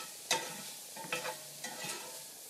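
Garlic sizzling in a hot pan on a grill, with a few sharp crackling bursts and stirring scrapes over a low steady frying hiss, close and fairly quiet.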